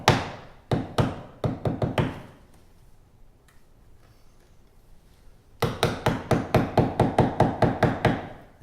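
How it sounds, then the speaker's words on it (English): A sharp chisel is tapped into wooden door framing with a hammer during a door repair, two bursts of quick close sharp knocks with a quiet pause between them. "Now I'm just gonna tap in with this nice sharp chisel until I get right about the same depth that's already cut out."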